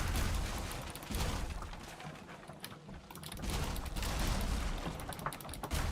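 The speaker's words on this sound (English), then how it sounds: "It's tapping on the roof here." Dense, rapid tapping on a roof in a video game, a crackling patter of many small hits that swells, dips briefly midway, then returns at full strength.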